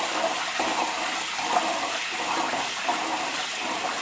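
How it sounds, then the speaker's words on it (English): Rinse water being poured out of washed Japanese rice, a steady rushing gush of water draining from a pot, close and continuous for a few seconds. "So we pour out as much as we can."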